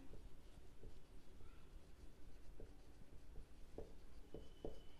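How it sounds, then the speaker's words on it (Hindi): Pen writing a ledger entry during an accounting lecture, a faint, steady scratching with a few soft taps, set against a quiet room hum. "तो हम इधर लिख देते हैं टेन थाउजेंड"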